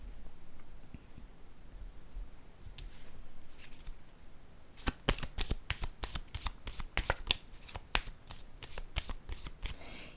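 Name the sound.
placing and handling cards on a table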